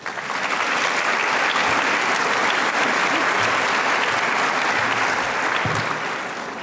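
Sustained audience applause greeting a speaker at a Leaders of the Twenty-First Century event, a steady, dense wash of clapping from a sizable crowd that holds evenly and tapers slightly at the end.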